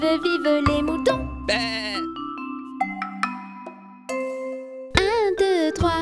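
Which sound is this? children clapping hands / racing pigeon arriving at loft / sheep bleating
sheep bleating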